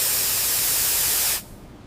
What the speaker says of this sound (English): For a complete sensor test, use an approved smoke detector test spray.